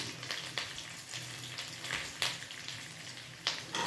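Curry leaves crackle and sizzle in hot oil, a faint, steady frying hiss broken by small pops, with no voices.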